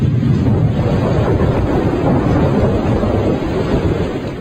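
Thunder rumbles continuously through a steady downpour of rain during a storm, loud and close throughout with a broad roar and no talking.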